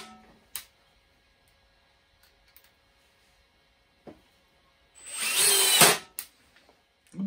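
A Makita DTD153 cordless impact driver driving a screw, a single loud buzzing, rattling burst of about a second, with scattered clicks and taps of handling before and after.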